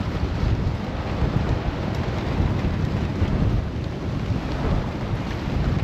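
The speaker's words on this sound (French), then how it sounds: "nuages, pluie, beaucoup de pluie, beaucoup de vagues qui passent par-dessus le bateau" Heavy rain and breaking waves wash over a sailboat at sea at night, a dense, continuous roar of water and wind that surges and rumbles without pause.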